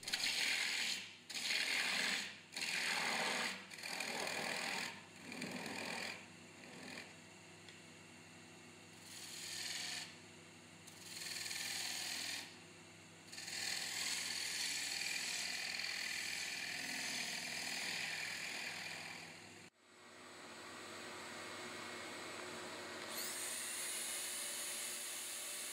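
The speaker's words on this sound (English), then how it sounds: "Once I have the bowl oiled, I'll remove the tenon at the bottom." A wood lathe works the base of a bowl held on a vacuum chuck as the tenon is cut away, intermittent whirring and ratcheting bursts with pauses, then a steadier hum, recorded faint and without talk.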